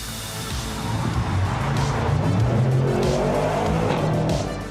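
An MTM-tuned Audi RS6 with 1001 bhp and a registered exhaust system roars past loudly and close, its engine note rising and falling with a brief tire squeal.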